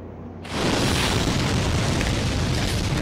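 In the Demon's Souls video game, the blue dragon breathes fire, a sudden loud roaring whoosh that bursts in after a brief quiet moment and sustains as a dense, rushing blast of flame.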